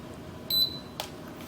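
A single short electronic beep from a GPS drone during compass calibration sounds close by in a quiet room, followed by a soft click.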